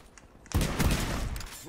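An Olympia shotgun firing in Call of Duty Black Ops 3, a single sudden loud blast with a short ringing tail and a faint second crack after it, heard alone.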